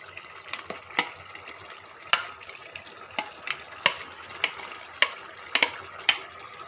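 Paneer being added and stirred in a pan for matar paneer, a low simmering sizzle broken by about a dozen sharp spoon taps and scrapes at an irregular pace.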